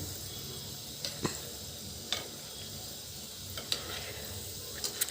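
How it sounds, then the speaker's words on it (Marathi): Wheat-flour gulab jamun frying in hot oil over a low gas flame: a steady, soft sizzle runs throughout, with a few sharp ticks and pops scattered over it. "तरी पण आपल्याला लहान गॅसवरच तळायचे आहेत."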